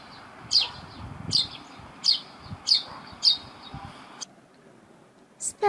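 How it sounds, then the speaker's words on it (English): Sparrow chirping, five short sharp chirps at an even pace, close and clear, followed by a brief quiet gap and a faint click near the end. "Sparrow."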